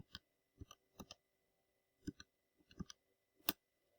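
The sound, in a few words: typing on a calculator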